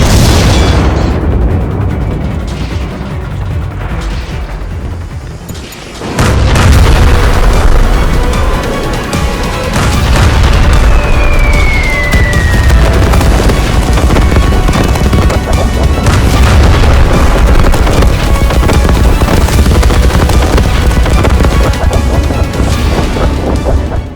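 Artillery barrage in an animated tank cartoon: heavy booming explosions roll in one after another, loud and continuous, with a brief lull before a fresh wave of blasts and a whistling shell passing overhead.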